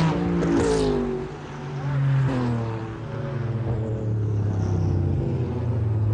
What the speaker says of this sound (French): attention ici, très large pour la Porsche numéro 25